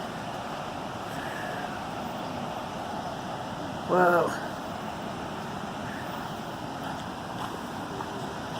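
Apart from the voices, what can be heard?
fast-flowing creek water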